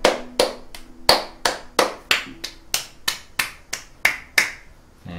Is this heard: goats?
no